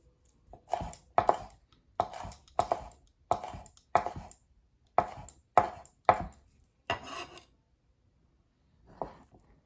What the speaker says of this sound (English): I'm going to chop these up really